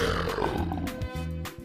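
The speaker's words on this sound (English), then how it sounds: "Lion." A lion roars in a cartoon animal sequence, a loud, deep, rumbling roar sustained for a moment with a couple of pulsing grunts, close and alone.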